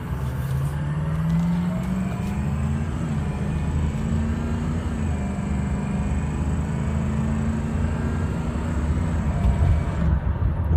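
A 2004 Ford F350 truck drives along with a loud, continuous engine drone, its pitch climbing and then dropping as it shifts gears smoothly, steady road noise throughout and no voices.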